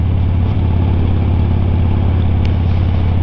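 A motorcycle engine running at a steady idle while warming up after starting, a constant close, loud mechanical drone with a deep low rumble and no voices.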